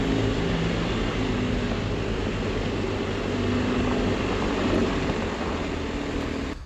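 A steady, even whir of drone propellers added as a layered sound effect, holding constant at moderate loudness throughout with no voices over it.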